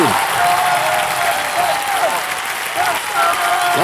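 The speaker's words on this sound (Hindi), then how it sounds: "जोरदार तालियां इन सबके लिए" A studio audience on the Kaun Banega Crorepati set claps loudly for the musical guests, a thick, continuous wash of applause with a faint tonal sound running beneath it.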